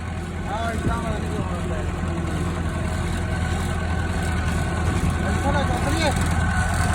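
A tractor engine idles at low revs in a field being levelled with a leveller, giving a steady, loud low rumble that runs throughout while people talk over it nearby.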